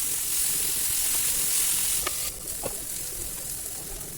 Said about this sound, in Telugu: మిగతా చికెన్ ముక్కలు కూడా ఈ విధంగానే యాడ్ చేసుకొని చక్కగా ఫ్రై చేసుకోండి